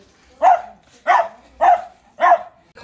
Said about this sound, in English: That's probably why he's barking at me.